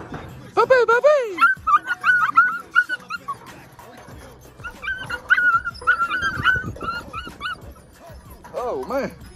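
A litter of large pit bull puppies yipping, whining and whimpering close by in overlapping high-pitched cries, with a voice mixed in.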